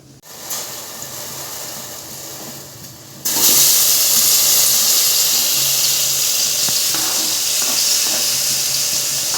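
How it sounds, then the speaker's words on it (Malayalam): Onions and tomatoes dropped together into hot oil in a pan for tomato chutney, a loud steady hiss of frying that bursts in after a few seconds of quiet and holds to the end. "ഇത് ചൂടായി വരുമ്പോൾ നമ്മൾക്ക് ഉള്ളിയും തക്കാളിയും ഇതിലേക്ക് ഇട്ട് കൊടുക്കാം."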